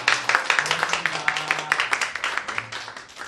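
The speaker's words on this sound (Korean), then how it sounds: "우리 박수로 환영하도록 하겠습니다" A church congregation claps to welcome a visitor, a small group's loose, fairly quick clapping heard close, with a few low vocal sounds underneath.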